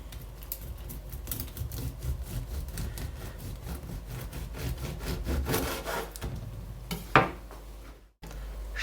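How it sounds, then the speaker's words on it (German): A knife saws through a loaf of flourless muesli bread baked with only a tealight, giving close, steady rasping strokes that repeat evenly before a short crunch and a brief pause near the end. "Aber ich schneide mal eine richtige Scheibe."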